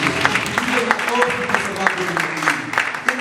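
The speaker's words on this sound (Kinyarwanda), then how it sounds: "Mwikombera amashyi kuko ni byiza." A church congregation claps together in a quick, even rhythm of sharp claps, a steady burst of group applause close by.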